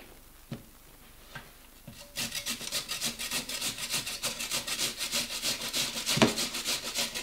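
Large yellow potatoes being grated by hand, a rapid rhythmic rasping scrape that starts after a few soft knocks and continues steadily up close.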